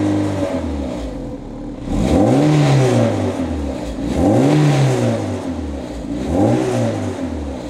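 A Porsche 968 CS engine fitted with a Scart exhaust, revved in three rising-and-falling surges around a steady 3000 rpm. The exhaust note is close and loud, with deep, throaty swells between the pushes.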